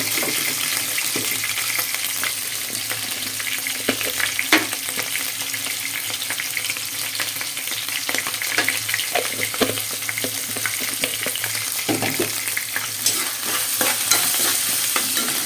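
Mettalu dumplings frying in a pan for ridge gourd curry, a loud, continuous dense sizzle with frequent stirring clatter throughout and no speech.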